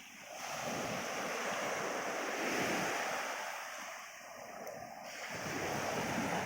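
Steady roar of sea surf washing onto Bayramoğlu beach, continuous and fairly loud, with wind buffeting the microphone and no talking.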